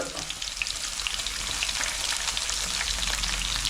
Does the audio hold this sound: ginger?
yes